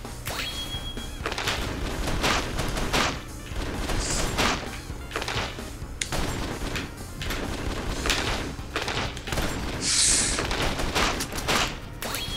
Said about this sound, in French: Tu vois, la mitrailleuse, c'est bien pour ce genre de truc.